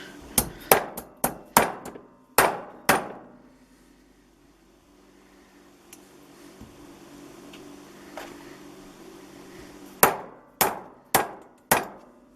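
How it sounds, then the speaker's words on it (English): A mallet beats on a hand-made metal counterweight mount: a quick run of about eight sharp, loud strikes, a quiet gap with faint handling, then four more hard blows close by. "Here's my mallet, because now I can actually beat on it without destroying it too much."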